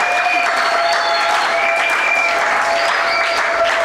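A church congregation applauds loudly and steadily throughout, dense clapping filling the space with a faint sustained tone ringing above it.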